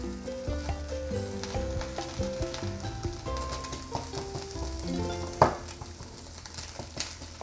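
Pork for sorpotel sizzles in a pan over a high flame with a continuous crackling fry, a sharp utensil clack partway through, and background music playing underneath.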